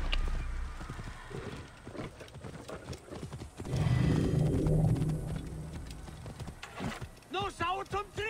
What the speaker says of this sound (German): Ich nehme das Pferd.